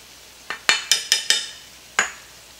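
A spoon stirs flour into ground-beef shepherd's pie filling in a pan, giving a few quick close scraping strokes in a short burst and then one more after a pause.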